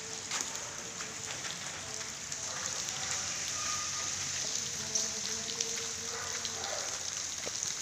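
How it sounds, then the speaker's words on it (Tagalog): Light drizzle patters steadily across an outdoor yard, a soft continuous hiss with faint scattered drops and a few distant background tones. "Ambon pa ngayon."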